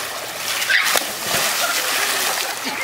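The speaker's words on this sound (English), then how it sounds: "That was a huge splash." A big splash into water outdoors on a summer day, a broad burst of spray and sloshing followed by lingering splatter, with voices nearby.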